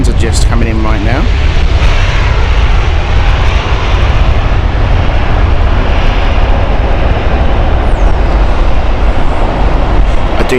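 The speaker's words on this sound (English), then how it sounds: "Got a Lufthansa just coming in right now." A Lufthansa airliner lands on runway 27 right at Heathrow, its engines a loud, continuous, close roar that fills the whole stretch, with someone talking under the noise.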